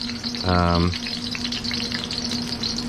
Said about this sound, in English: shallow fry them here, and we're going to go relatively slowly